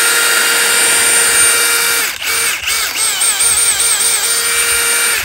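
Milwaukee cordless hammer drill driver running at full speed, a loud, close, high-pitched motor whine held steadily, dipping briefly twice in the middle before resuming without any talking.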